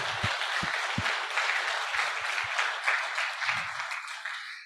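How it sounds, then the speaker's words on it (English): Meeting attendees at an annual general meeting applaud a departing treasurer, a steady moderate round of clapping from a modest crowd in a room, with a few thumps and low murmurs underneath, tapering off at the end. "let's give him a clap"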